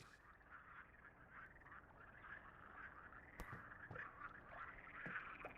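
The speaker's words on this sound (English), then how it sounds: "look at the little frog!" Repeated croaking from a small frog in a dark, cursed forest within a video game, a steady chorus of calls in the mid range with a few sharper knocks, fairly close and continuing throughout without any talk.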